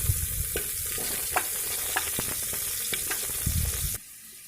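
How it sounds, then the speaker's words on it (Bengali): Chopped onion fries in oil with bay leaf, cinnamon, cardamom, cloves and cumin, giving a close, steady sizzle with scattered spatula clicks and scrapes, cutting off abruptly near the end. "একটা ছোটো মাপের পেঁয়াজ কুচি করে সেটাকে ভেজে দিতে হবে এর মধ্যে"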